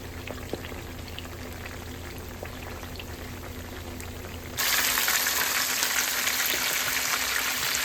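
Seasoned sea bream frying in a pan for a Congolese dish, a close crackling sizzle with a low steady hum beneath that suddenly swells into a louder, denser hiss partway through, with nobody talking.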